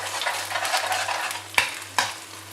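Beaten egg sizzling in hot oil in a pan while being stirred, a steady crackling fry with two sharp scraping knocks of a spoon against the pan near the end.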